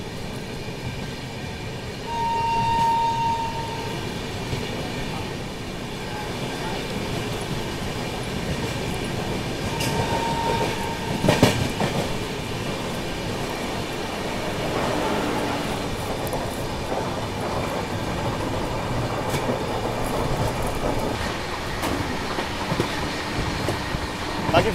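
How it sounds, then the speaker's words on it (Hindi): Ahmedabad Gorakhpur Express overtaking a passenger train on the Ujjain outer: a steady, close rumble of rolling wagons and clattering wheels throughout, with brief thin squeals and a louder burst near the middle. "उज्जैन आउटर पे हम लोग ओवरटेक कर रहे हैं इसे"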